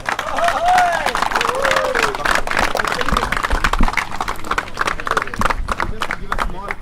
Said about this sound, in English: With all the guys, a huge applause for you.